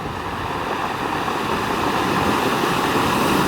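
Sea waves washing over rocks on the Madeira coast, a continuous close rushing surf that builds slightly in strength.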